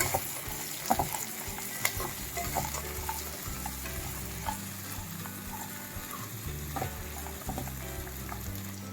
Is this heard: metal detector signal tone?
no